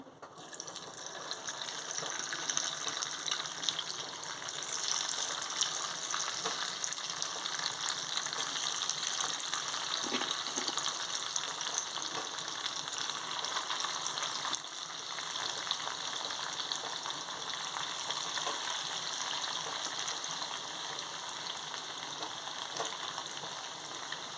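Fish pieces for a chicken-style fish fry crackle in hot oil, a steady close sizzle and hiss that runs unbroken with no voices.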